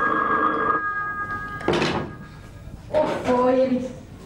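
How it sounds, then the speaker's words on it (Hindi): A telephone rings in a couple of bursts with a gap between, fairly close, with a brief clatter in the middle. "फोन की घंटी, फोन की घंटी, चल फोन की घंटी सुने"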